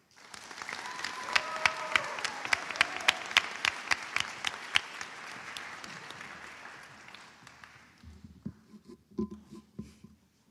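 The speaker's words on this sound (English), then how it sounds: "let's give them a big round of applause." A banquet crowd at a high school FFA event gives a big round of applause, dense clapping that fades after about eight seconds, leaving a few scattered claps and light room noise.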